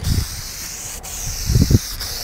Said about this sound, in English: Do a quick little test spray.